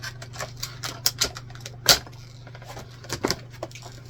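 A knife slices through the cardboard of a sand blaster's shipping box in short, sharp, close tearing cuts and scrapes, spaced irregularly over a low steady hum.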